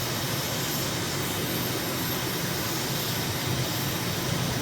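A jet aircraft takes off in Microsoft Flight Simulator near Taipei, Taiwan, its engine a steady, loud, broadband roar that holds without a break and has no talk over it.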